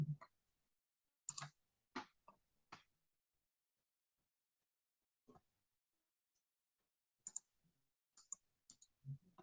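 Sparse mouse clicks sound while a concrete beam is modelled in Tekla Structures: single sharp taps and quick pairs separated by long silent gaps, close and quiet.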